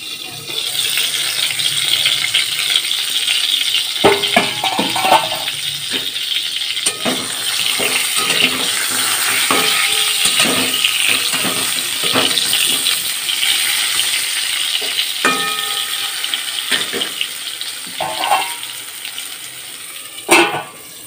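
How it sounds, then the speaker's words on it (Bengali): Pointed gourd (potol) pieces fry in a covered pan, giving a steady, fairly loud hiss, with scattered clinks and scrapes from the pan throughout. "হালকা হালকাভাবে পটলগুলোকে ভালো করে ভেজে নেব।"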